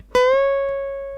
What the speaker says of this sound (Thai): พอเราดันช่อง 12นะดันขึ้นไป